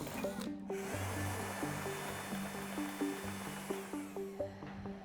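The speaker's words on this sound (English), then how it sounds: "Here's what happens when I try and push it back with this leaf blower." A leaf blower blows air at a spinning wheel in a demonstration of gyroscopic tilt, giving a steady whooshing roar with a whirring hum beneath and repeated short tonal whines from the turning ring.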